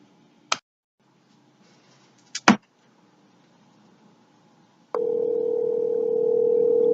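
A telephone handset clicks and knocks a few times amid near silence, then a steady, fairly loud dial tone comes in and holds to the end.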